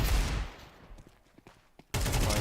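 Rapid gunfire bursts in a Counter-Strike match, loud and dense at the start, thinning to scattered lone shots, then a sharp loud burst returns near the end.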